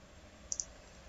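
Two quick, sharp computer key or mouse clicks in close succession, triggering a program run during a digital signal processing lab, heard alone over a faint room hum.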